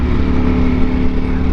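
A 2020 Ducati Panigale V4 being ridden, a loud, steady engine drone with wind rush close to the microphone, no speech.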